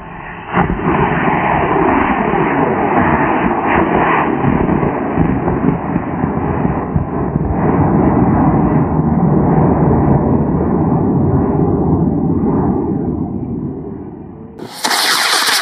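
A high-powered model rocket launch: a loud, sustained broadband roar starts abruptly and holds steady for about fourteen seconds before cutting off, followed by a brief burst of wind noise.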